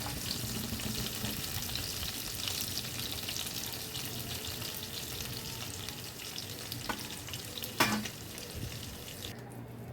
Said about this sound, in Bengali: বাকি মাছগুলোকেও আমি এইভাবেই ভেজে নেব